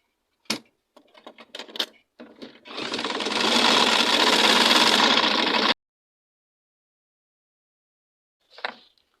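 A few sharp clicks precede a single loud, close burst of sewing machine stitching on satin fabric for a turban cap, lasting about three seconds before stopping abruptly, with a final click after.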